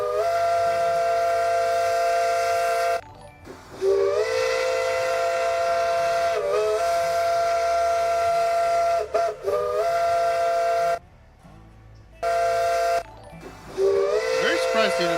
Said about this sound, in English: What, EBT 15's whistle?